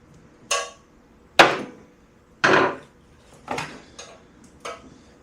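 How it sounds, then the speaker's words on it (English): Ratchet wrench working loose a part on a Kubota BX tractor with the mower attached: five separate sharp knocks and bursts of ratcheting, spaced about a second apart, close up and with no one talking. "I'm using a ratchet wrench just because it's the first thing that I was grabbing there."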